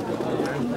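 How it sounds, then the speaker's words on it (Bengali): Pigeons, large Rampuri birds among them, coo softly amid the crowded bustle of a pigeon market, with nearby voices talking over the brief steady murmur. "নর পায়রা"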